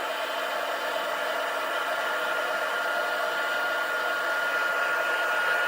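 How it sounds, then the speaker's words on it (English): A handheld heat tool blows steadily for embossing powder, giving a continuous loud whooshing hiss like a hair dryer, alone and unchanging throughout. "bring out my heat tool. And sorry, this will be noisy for a minute."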